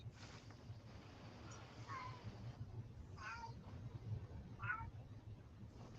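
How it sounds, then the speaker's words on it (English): A cat meows three times in short, rising cries, faint and somewhat distant over a low steady background hum. "I don't even see the cat that's meowing."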